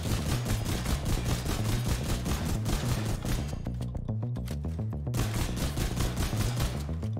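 Rapid, continuous gunfire bursts, dense and loud, with booming low thuds in a steady rhythm, as from an intense shootout.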